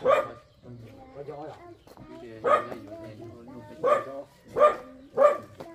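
A dog barks in a string of sharp, evenly spaced barks, close and fairly loud, while people talk throughout.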